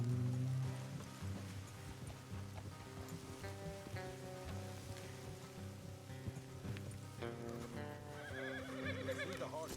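Horses whinny and neigh repeatedly in Red Dead Redemption 2 over a busy background of rain-like patter and hoofbeats, with layered game ambience and no talking.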